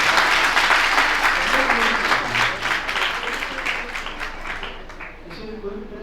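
An audience at a religious discourse in Jaipur applauds loudly and steadily, the clapping slowly fading, with a voice speaking under it.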